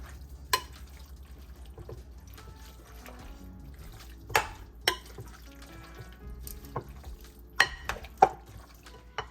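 A chicken spaghetti bake casserole mixture with black pepper is stirred in a bowl, giving soft, wet scraping and squelching with a few sharp clicks of the utensil against the bowl, quiet and close.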